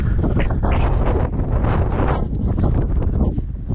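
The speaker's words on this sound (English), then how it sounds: "right here, it's really windy" Strong wind buffets the microphone with a continuous low roar and rumble, loud and close throughout, with gusts rising and easing slightly.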